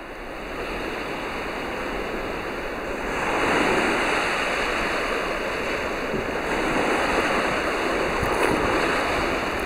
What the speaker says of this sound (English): here you have a river flowing into the waves, creating this sort of effect.